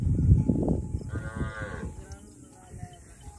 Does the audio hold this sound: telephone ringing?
no